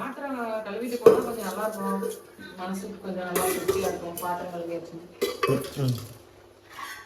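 Dishes, pots and pans clatter and clink while being washed by hand late at night, with intermittent knocks and scrapes under a person talking throughout.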